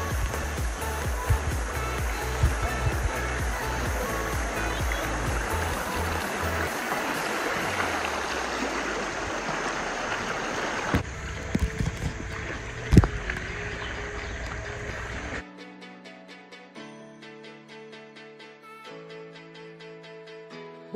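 Running river water rushes steadily alongside a slow-moving bamboo raft in Chiang Mai, Thailand, with occasional splashes and knocks, ending as the flow gives way to quieter surroundings.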